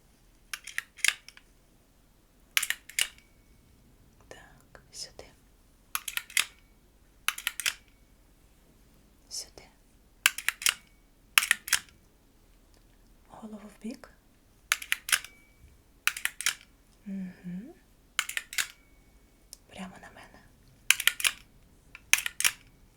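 Close-up camera shutter clicks during an ASMR eye exam, a long sequence of sharp, crisp snaps spaced a second or two apart, with soft whispered speech between some of them.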